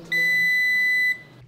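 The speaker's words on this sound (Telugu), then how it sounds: "ఇది మీకు బీప్ సౌండ్ వచ్చి ఆగిపోతుంది" A single high electronic beep from a portable washing machine timer, steady and piercing for about a second, with a low motor hum underneath.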